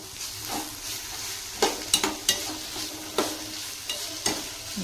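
Garlic cloves and cumin seeds frying in a pan for ridge gourd chutney, a continuous sizzle broken by several sharp spoon scrapes and stirring clacks, close up with no talk.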